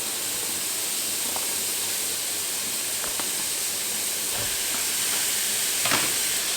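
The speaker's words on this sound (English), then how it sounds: "And I'll just keep frying it until it's all nice and brown" Pork mince frying without oil in a preheated hot pan, a steady loud sizzling hiss throughout with a few brief crackles and pops, no voices.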